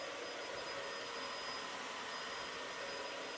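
A Dyson vacuum cleaner runs on its carpet setting, giving a steady, loud broadband whoosh with a thin high whine held unchanged throughout, with no voices.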